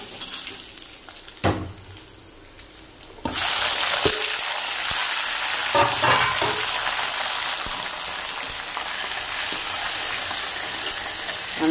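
Karuvadam, dried salted fish, frying in hot oil for fish curry gives a loud, close, continuous sizzle that starts abruptly after a few seconds of quieter kitchen noise and a sharp clatter, with no one speaking.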